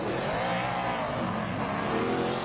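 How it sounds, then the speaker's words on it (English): A NASCAR Nationwide race car at Dover (2009) revs and heats its rear tires, a loud continuous engine roar with a slight rise in pitch, no talk. "All right, heating up those rear tires."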